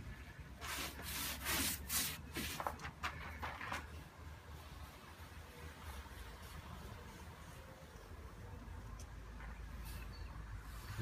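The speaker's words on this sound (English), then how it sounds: "When I do the sanding" Hand sanding on a trailer under repair gives steady, close, scratchy rubbing strokes: a quick run of sharp bursts at the start, then a continuous grinding rasp with no talk.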